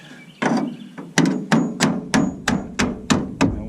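A hammer taps sheet metal on a car quarter panel repair, about eight sharp close metallic strikes in a fairly even rhythm, each ringing briefly, with no voices.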